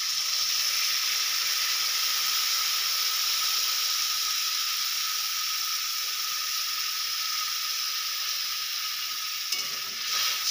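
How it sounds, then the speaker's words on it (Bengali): Small mourola fish frying in a pan after a little water is added hiss and sizzle loudly and steadily, close up, with a faint clink near the end. "এবার আমি দিয়ে দেবো অল্প পরিমাণে জল।"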